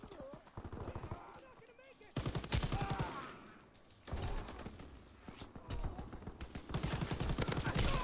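Bursts of rapid automatic gunfire ring out in a Call of Duty match, loud rattling volleys separated by brief pauses, with game voice lines and a player's voice in between.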